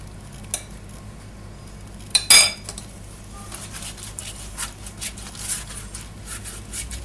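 A metal spoon clinks against a baking tray while scooping yogurt sauce onto a sheet of yufka laid on parchment paper, with one sharp scrape followed by softer taps and scraping, close and fairly quiet, no voices.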